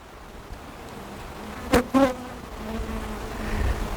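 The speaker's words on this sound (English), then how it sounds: "little bee over there" Honeybees buzz around a hive kept with dry sugar feed, a soft steady insect drone with a brief louder pass as a bee flies close.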